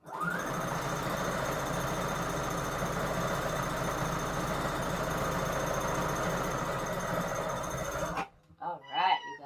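A sewing machine runs a straight stitch in one continuous, steady mechanical whir for about eight seconds, then stops abruptly before a voice briefly speaks.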